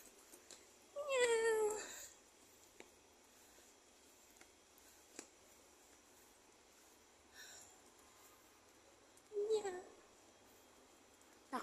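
Cats meowing near a market stall selling tables: two separate drawn-out meows, one early and one near the end, moderately close over a quiet background with faint scattered clicks.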